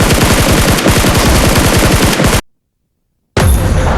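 Rapid automatic gunfire in a video game rattles as loud, evenly spaced shots for a couple of seconds, then cuts to silence before another loud burst of shooting resumes near the end.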